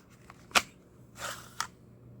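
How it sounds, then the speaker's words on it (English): A GX4 pistol snaps into a Kydex holster with a sharp plastic click, followed by a short rustling scrape and a second lighter click, all close and alone. "You put the gun in the holster, it snaps into place."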